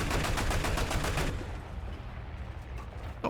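A Zerstorer 45 flak gun in a video game fires a rapid, evenly paced string of loud shots, then the reports fade into a softer rumble before one last sharp blast near the end.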